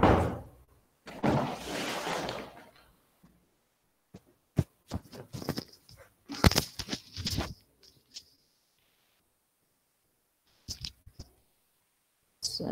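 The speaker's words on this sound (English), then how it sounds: "Sorry, I was closing the door." An indoor door is being closed with a scatter of knocks, clicks and a few sharp thuds and rattles, spaced out over several seconds with quiet gaps between them and no talking.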